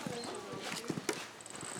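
Horse hooves clip-clop in a brief run of a few close, distinct strikes, heard against a lively outdoor background with people's voices nearby.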